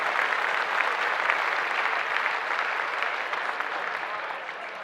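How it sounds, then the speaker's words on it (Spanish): A church congregation in Hawaii gives sustained applause, a thick steady clatter of many hands that holds level and then tapers slightly at the end. "Denle un aplauso al Señor"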